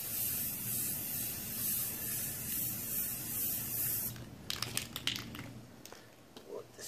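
A continuous hissing aerosol spray laying a light touch-up coat on a Sony PVM monitor for several seconds, cutting off abruptly, followed by scattered clicks and light handling noises.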